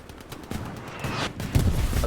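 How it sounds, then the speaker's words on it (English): Artillery fire pounds a road in the Hell Let Loose war game as a few rough, rumbling bursts and blasts crackle at a moderate distance with no one talking. "Artillery now blasting the main road as well"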